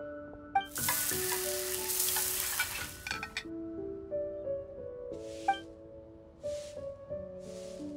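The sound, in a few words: cooking sizzle in video game Genshin Impact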